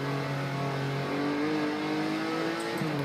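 A Porsche 911 race car at the Nürburgring brakes and drops a gear, its loud steady engine note sliding in pitch as the revs change, close and continuous with no talk.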